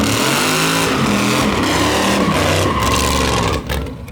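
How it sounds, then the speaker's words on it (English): A car fitted with a nasty race motor, the El Chromino, roars through a sustained high-revving burnout in a parking lot, the engine loud and close throughout before the revs drop suddenly near the end. "We're gonna do Burnout."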